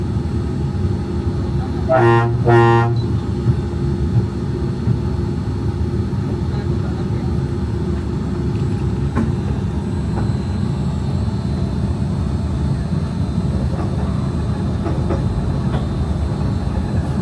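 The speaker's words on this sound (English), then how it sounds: "welcome aboard the Disneyland Monorail" Riding aboard the Disneyland Monorail, a constant loud rumble and hum of the train on its track fills the cabin, with a brief two-tone chime sounding early on.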